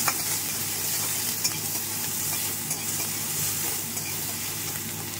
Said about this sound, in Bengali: এরপর এই যে আদার পেস্ট আছে এটাও দিয়ে দেবো। দিয়ে একটু কষিয়ে নেব।